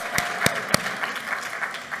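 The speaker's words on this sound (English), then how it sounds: "One more round of applause for Ms. Classy." Audience applause at a 2023 GED graduation ceremony: steady clapping from a crowd, with several sharper individual claps standing out near the start.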